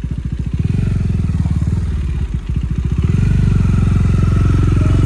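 A motorcycle fitted with a modified exhaust accelerates hard, its loud, rapid engine pulse holding steady and then climbing as the revs rise, with no talking over it.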